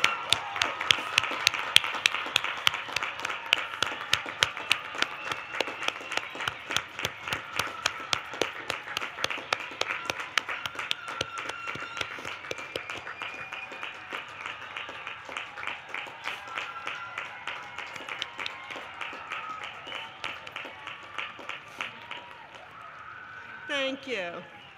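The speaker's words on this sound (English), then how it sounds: "Guests, please stand and do a nice round of applause for our class of 2021 graduates." Guests at a School of Nursing pinning ceremony give a sustained round of applause for the graduates, dense rhythmic clapping from a crowd that carries on steadily for over twenty seconds before tapering off.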